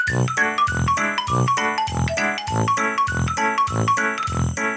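Notification bell jingle: a bright, loud series of repeated chiming dings in a quick regular rhythm, with a bouncy tonal pattern and no voices.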